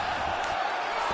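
A dense crowd roars and cheers through a grappling fight at a UFFL event, a loud, sustained wash of noise with no break.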